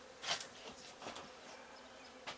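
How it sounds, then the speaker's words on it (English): Bees buzz around a canning room, several close passes rising and fading over a few seconds, quiet and intermittent against a still background. "We have a canning room full of bees."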